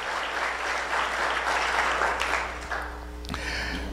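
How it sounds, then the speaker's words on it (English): Audience applause at a chamber of commerce awards gala, a steady dense wash of many hands clapping that fills the room and then thins out toward the end, with a low hum underneath. "Can we give them an applause?"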